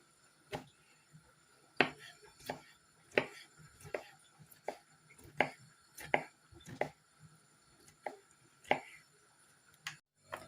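Knife chopping cucumbers on a cutting board for Olivier salad, a steady series of sharp, fairly quiet taps at a moderate rhythm, heard alone with no talk.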